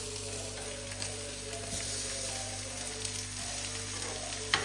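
Rice shami kababs fry on low heat, giving a constant gentle sizzle and crackle with occasional small pops throughout.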